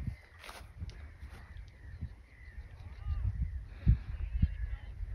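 Waterfowl, likely ducks or swans, honking at a lakeside in Haapsalu, Estonia, with a few short calls rising over a rustling outdoor background, and a louder call near the end.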